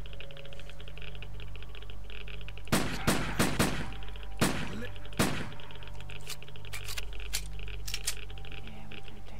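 Pistol shots in the video game Lost Alpha, a quick cluster of sharp cracks followed by a short pause and two more shots, loud against a steady low ambient hum.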